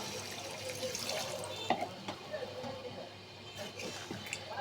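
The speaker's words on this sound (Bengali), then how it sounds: "এখন আমি পানি অ্যাড করে দেবো" Water trickles and splashes into a pan of boal fish curry with potatoes at close range, with a few light clinks and soft drips over a low background hiss.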